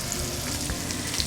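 Loud, steady sizzling of salmon frying in a hot oiled pan, with crackling pops scattered through a continuous hiss, close up.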